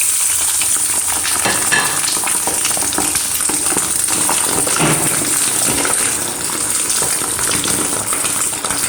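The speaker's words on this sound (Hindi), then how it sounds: "अभी इसको मैंने हल्का से इसमें पकाना है।" Sheep tail fat sizzling and frying in a pan for kaleji, a loud continuous crackle with occasional stirring, close up and with no talk.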